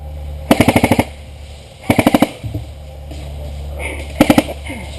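Three quick bursts of airsoft gunfire giving cover fire at an outdoor open-play skirmish, each a rapid string of five or six sharp, close snaps, separated by a few seconds of low background noise and faint movement.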